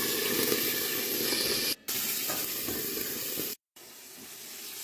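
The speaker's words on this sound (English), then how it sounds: "Now add some water. You've got to be careful. This will splatter" Water poured into a hot pan of garlic, a loud continuous hiss and sizzle of splattering oil and steam with two sharp cut-offs, as if a lid is clapped on.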